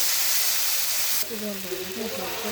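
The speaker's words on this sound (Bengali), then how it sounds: "এবারে দিয়ে দিচ্ছে ওতে একটু পরিমাণ মতন জল" Water hits hot frying spice paste for Bhola fish curry with a loud sizzling hiss that drops off abruptly, after which a voice talks over a softer simmer.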